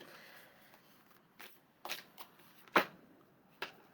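A deck of tarot cards shuffled by hand in a quiet room, soft riffling and sliding with a few sharper snaps and slaps standing out alone, close and fairly faint.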